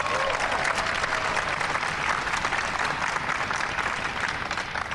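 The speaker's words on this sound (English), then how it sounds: "Give him a big round of applause" A White House astronomy night audience applauds steadily and loudly for the full stretch, a dense wash of many hands clapping with faint crowd murmur underneath.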